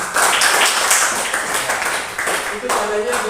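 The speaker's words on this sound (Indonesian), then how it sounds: "tepuk tangan luar biasa" A group of children clapping their hands together in applause: a fast, busy patter of claps mixed with their excited voices.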